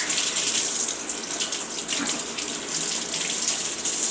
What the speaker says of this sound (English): and then rinse it off real good in cold water